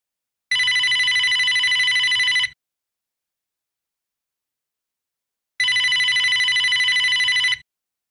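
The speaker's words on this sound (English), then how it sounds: "Miss Jungle, please pick up the nearest white courtesy phone for a call from your husband, Mr. Lee Jungle." A telephone rings in two long electronic trilling bursts of about two seconds each, loud and clear, with several seconds of silence between them.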